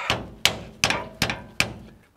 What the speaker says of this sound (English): Just kind of gently whacking it in here.